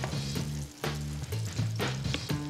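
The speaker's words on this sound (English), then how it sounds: "So we're gonna put some pancake batter right into the pan." Pancake batter poured into a buttered pan sizzles and fries steadily and up close, with a low pulsing hum from the stove underneath and no speech.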